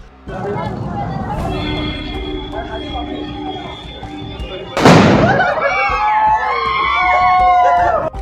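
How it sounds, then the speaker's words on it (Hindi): A firecracker thrown onto a roadside road goes off with a sharp, loud bang midway, followed by crackling and whistling tones; street noise and voices run throughout. "वह पटाखा जलाता है और सड़क पर फेंक देता है।"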